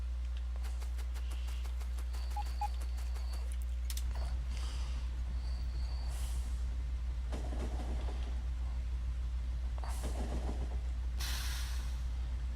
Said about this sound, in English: bring the train forward some more, so we're not having to walk all the way back down here for it